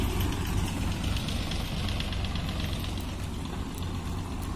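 A Swaraj 735 FE tractor engine idles with a steady, fairly quiet low throb that runs unbroken throughout, with no talk over it.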